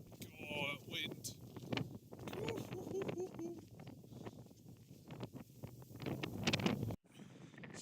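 Gusty wind buffets the microphone at the St. Benet's Abbey ruins in Norfolk, a loud, uneven rumble with rushing bursts, and a voice talks through it.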